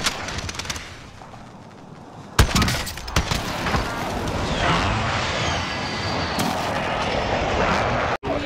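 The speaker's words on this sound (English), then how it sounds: "Friendly precision airstrike inbound!" Heavy explosive blasts from a precision airstrike in a military video game, with sharp loud impacts around two and three seconds followed by sustained rumbling, crackling debris and shattering, and faint voices in the background.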